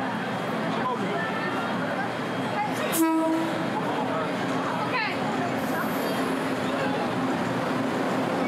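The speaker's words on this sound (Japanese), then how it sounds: "商店のすれすれを通る列車。" Train running right alongside shops at a tourist spot in Taiwan, a steady loud rumble of the passing cars with a brief horn blast partway through, close by, while people talk in the background.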